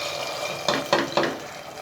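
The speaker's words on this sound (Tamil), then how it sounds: "இப்போ இந்த கிரேவியில் நம்ம வறுத்த அந்த முந்திரி திராட்சையை உள்ளே கொட்டிடலாம்" Three quick soft pours and thuds as ghee-fried cashews and raisins are tipped into chicken murg gravy in a pan, over a steady low simmering hiss.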